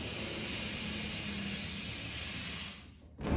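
Steady hiss of air from a balloon inflator filling a latex balloon to a sized gauge for a Christmas balloon column, continuous and close, then cutting off near the end.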